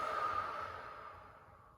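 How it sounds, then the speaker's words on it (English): A single long, deep breath out through the nose and mouth during a yoga session, breathy and soft, fading gradually over nearly two seconds. "Breathe a deep inhale in. And a full exhale out."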